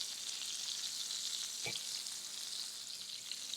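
Chicken meatballs brown in a frying pan with a constant, even sizzle and one short knock partway through, no voices.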